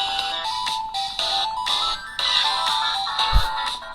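A Samsung Galaxy S21 Ultra smartphone plays its ringtone through its speaker at maximum volume: a bright, repeating electronic melody that rings steadily and loudly throughout, with a brief low thump near the end.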